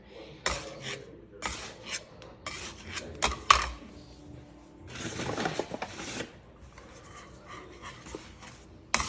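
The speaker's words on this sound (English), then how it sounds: "And then I turn it over, and I take my bench scraper" Bench scraper sliding and scraping across a work surface while tucking a round of sourdough bread dough under, giving a series of short close rasping scrapes and brushing sweeps separated by quiet gaps, with no talking.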